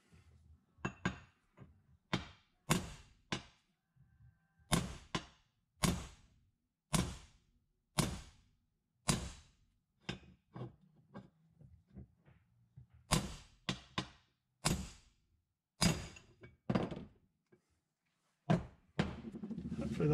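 Hammer blows knock a bearing out of the crankcase of a Ducati M696 belt-drive twin: about two dozen sharp, close metallic strikes in irregular bursts, separated by short pauses.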